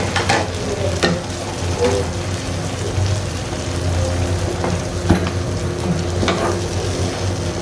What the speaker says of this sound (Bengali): এখন আমি এখানে তেঁতুলের যে পেস্টটা রেখেছিলাম সেটি দিয়ে দিচ্ছি।